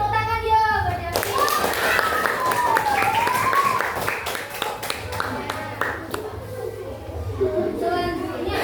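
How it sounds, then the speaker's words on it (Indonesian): Schoolchildren in a classroom quiz clap for a classmate, a burst of quick hand claps following a short tone, with children's voices and an adult speaking over it. "tepuk tangan ya buat Davi"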